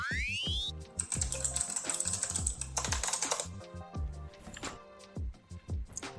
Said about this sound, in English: I can hear you typing, Bryan, and you're a fast motherfucker.